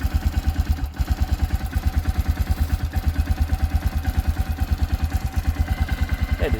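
A sawmill engine idles and warms up after a choked start, putting out a steady, rapid, even chugging pulse. It is close and loud, with a metallic clatter over the beat and no pauses.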